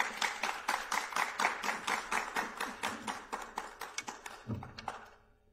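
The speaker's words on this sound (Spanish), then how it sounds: "Un fuerte aplauso, por favor" Scattered hand claps form a brief round of applause from a small concert audience after a song, steady for several seconds before tapering off.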